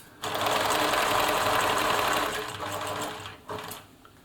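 A Bernina Nova 900 electronic sewing machine sews a satin stitch off the edge of fabric in a steady close whir for over two seconds, then slows, followed by a short second burst.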